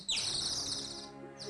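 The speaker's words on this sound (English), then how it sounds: "A nightingale!" A nightingale singing outdoors, with bright high chirping trills at moderate distance over a quiet background.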